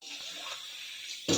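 Tap water runs steadily into a pot for cooking Maggi noodles, a close, soft hiss of pouring water that swells louder at the very end.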